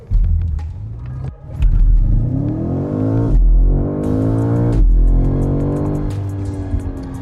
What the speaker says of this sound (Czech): když dám launch control, auto vystřelí dopředu neskutečným způsobem